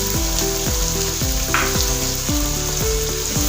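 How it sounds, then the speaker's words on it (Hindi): Chicken karahi sizzles and fries steadily in a pan, a close, continuous crackle of hot oil with faint scraping as the meat is stirred, and no voices. "इसकी अच्छे से आप भुनाई करेंगे।"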